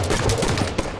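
Gunfire in the Halo 5 shooter game, a rapid dense burst of shots with a sharp crack near the end, loud and close, no talk over it.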